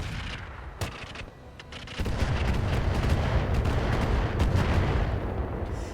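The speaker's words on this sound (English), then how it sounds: "Very solid artillery damage there." Heavy artillery fire in the mech combat video game RogueTech booms in a sharp report, then a dense rumbling barrage swells and rolls on loudly to the end.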